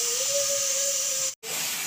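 A pressure cooker on a stove softening beef for biryani hisses loudly and steadily with a thin whistling tone, cutting out for a brief instant before the hiss resumes.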